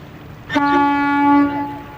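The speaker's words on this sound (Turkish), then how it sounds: "Çok güzelmiş korna" A vehicle horn sounds once in a sustained, tonal blast lasting about a second, loud and close against a quiet background.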